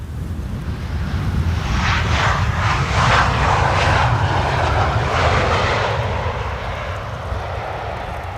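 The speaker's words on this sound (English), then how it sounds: "This was Transavia flight 6610 arriving from Innsbruck" A Transavia airliner arriving at Amsterdam Schiphol from Innsbruck in a sunny crosswind roars loudly as it passes close by, its engine noise swelling to a peak and then fading, with no voices.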